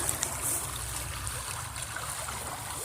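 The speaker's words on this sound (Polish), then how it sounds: "Jesteśmy za skarem nad rzeczką, taki tu jest strumień." A small, dirty forest stream near a motorway flows with a steady broadband rush and trickle, continuous and fairly close, with no voices.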